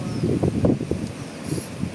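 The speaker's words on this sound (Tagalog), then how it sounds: "pero malakas yung hangin sa baba" A strong, gusty signal-10 typhoon wind in Hong Kong blows in a steady rushing roar with low buffeting gusts rising and falling.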